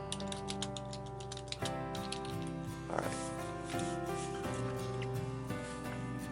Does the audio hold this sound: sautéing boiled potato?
no